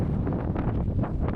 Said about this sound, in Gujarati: પવન વધતી છે